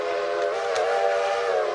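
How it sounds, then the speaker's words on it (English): Train whistle from the railroad game Railroader, one steady, loud, sustained blast with a slight pitch wobble, heard alone. "So there's two ways to do the whistle."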